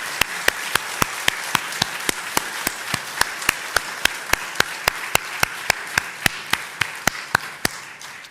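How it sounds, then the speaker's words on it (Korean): A church congregation applauds together during a Korean early-morning prayer service, a steady run of sharp, evenly spaced claps over a soft roomy wash, with no one speaking. "우리 영광의 박수를 올리도록 하겠습니다"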